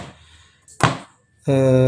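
A knife strikes once sharply through candlenuts on a cutting board, a single close chop between quiet moments, followed by a voice speaking.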